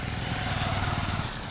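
A Luna moped engine running steadily near a Tamil Nadu farm, a continuous buzzing drone with no pauses, loud and close throughout.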